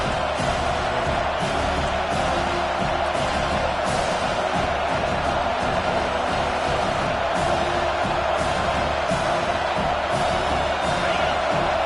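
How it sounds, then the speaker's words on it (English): A football stadium crowd roars steadily in support of the defense during a red-zone stand, a dense, continuous wash of cheering and shouting with scattered whoops throughout. "The crowd getting behind this defense as they try to get a stop in the red zone."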